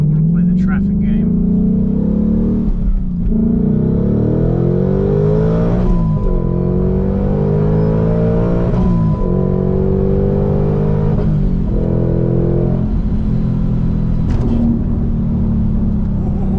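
A supercharged 2021 Ford Mustang Mach 1 with a manual transmission accelerates hard through several gears, its loud engine climbing in pitch and dropping at each shift, close and steady, with someone talking over it.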